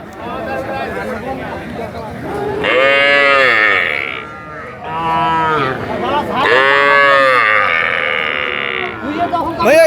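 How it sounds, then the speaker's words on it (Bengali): Cattle moo loudly and close by at a cattle market in Dinajpur, several long drawn-out calls in a row, with people talking in the background. "এটা তো আগর গরু বেশি দিন বয়স হয় নাই"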